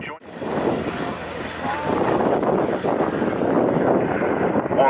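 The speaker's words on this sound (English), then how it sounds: "B-17 Sally B gets airborne to go and position for its display" A Boeing B-17 Flying Fortress, Sally B, takes off at the Duxford summer airshow with a sustained, rumbling drone of piston engines that builds slightly in loudness and is roughened by wind buffeting on the microphone.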